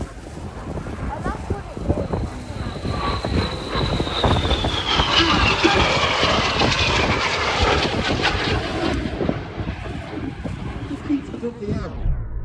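At a Duxford airshow, an aircraft engine roars steadily through an aerobatic Boomerang manoeuvre, heard from a distance with a slowly falling pitch before it fades. Wind noise runs under it.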